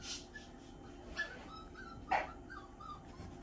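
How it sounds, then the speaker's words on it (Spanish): Old dogs bark and yip in a few short, scattered bursts at moderate distance, with quiet room tone between barks. "Ya llévate a esos perros viejos que están ladrando."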